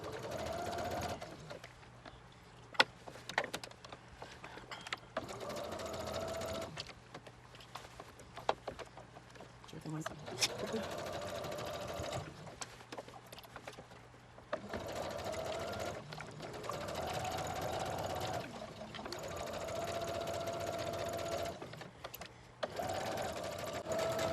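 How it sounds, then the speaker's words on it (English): A sewing machine stitches a curved jacket seam in steady bursts of even, rapid whirring, stopping and restarting several times with brief pauses between runs, close and fairly loud. "I'm trying to be careful about sewing on this curve."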